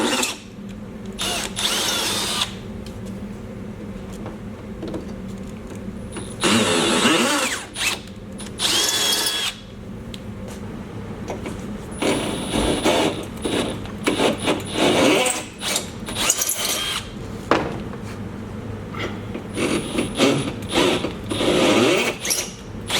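Drilling and tapping holes to install a skid plate on a Traxxas Maxx-style RC vehicle, with short bursts of a small power tool whirring up and stopping, separated by pauses and light handling clicks.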